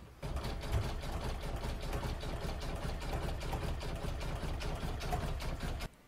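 An embroidery machine stitches a satin stitch around the outer edge of an in-the-hoop oval coaster, giving a steady, loud, continuous mechanical whir with rapid rhythmic needle ticking for nearly six seconds before stopping abruptly.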